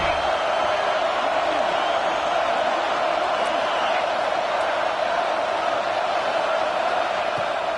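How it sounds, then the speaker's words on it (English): Football stadium crowd cheering, a loud continuous roar of many voices with scattered whoops, steady and unbroken throughout. "This crowd knows when to bring it."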